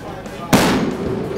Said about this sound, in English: going to fire a 50 caliber rifle.